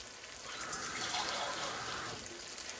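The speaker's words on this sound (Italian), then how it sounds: "mettiamo anche un altro pochettino d'acqua" Water poured from a tap or jug into a pot of fish soup simmering on a stovetop, a steady splashing pour lasting a few seconds at close range with no talk over it.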